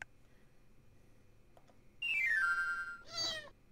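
A cat in the SimAnt game on Amiga gives a synthetic, descending meow, followed by a second shorter cry, both fairly close against near silence.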